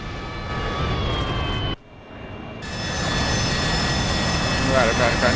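AV-8B Harrier jet engine roaring in flight in the DCS World simulator, a loud sustained whine and rumble that drops out briefly before returning, with a voice talking over it.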